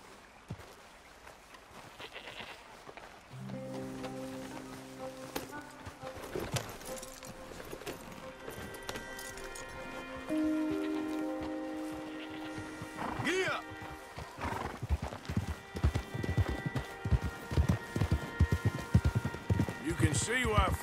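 Horse hooves clip-clopping in Red Dead Redemption 2, a rhythmic trot that grows louder and busier toward the end, joined by snorts and a whinny, with background music and speech.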